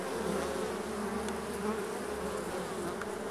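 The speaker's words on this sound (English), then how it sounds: "sitting there and watching the bees and looking what they're doing" Honey bees on Vancouver Island buzzing steadily, a low droning hum with occasional brighter passes, continuous and fairly close.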